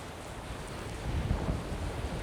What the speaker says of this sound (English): Hawaii has some of the biggest waves in the world.